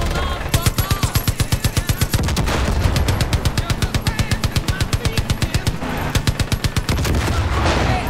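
Rapid automatic gunfire from Far Cry 5, loud and close, sustained bursts of evenly spaced shots running almost the whole stretch with brief pauses between volleys.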